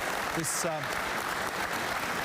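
An audience applauds the owner of a historic Nissan racing car at a motorsport legends event, a steady wash of clapping throughout with a voice briefly speaking over the start.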